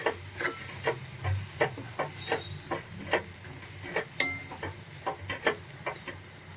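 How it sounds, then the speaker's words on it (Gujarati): Cooked gram flour is stirred into a fenugreek leaf bhaji with a spoon, making rhythmic scraping and slapping strokes against the pan over a soft, low sizzle, with no voices. "હવે આપણે આ મિક્સ કરી લેશું ભાજીમાં."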